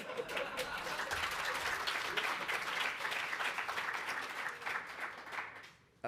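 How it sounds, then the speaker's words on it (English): Sustained applause from a conference audience at lightning talks, many hands clapping in a dense, even roar that continues for several seconds before fading out. "Big clap, everyone."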